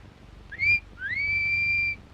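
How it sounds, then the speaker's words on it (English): A person whistles a two-part signal: a short rising note, a brief pause, then a longer rising note held steady, clear and close with no other sound. "when you get to 2 Bar, you whistle like this"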